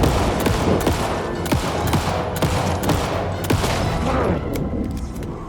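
Rapid gunfire from a gun in Alan Wake 2, a dense, loud run of shots cracking in quick succession over heavy, rumbling background noise.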